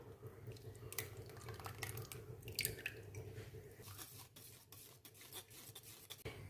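A cooking mixture being strained into a pan, with a continuous soft wet rasp and trickle as the liquid passes through the strainer, close and steady with faint scraping and clinks throughout.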